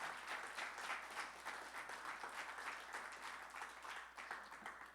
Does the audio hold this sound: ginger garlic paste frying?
no